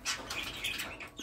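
Six caged canaries chirp and tweet in quick, bright bursts over 1.3 seconds, close and fairly soft, with faint wing flutters between calls.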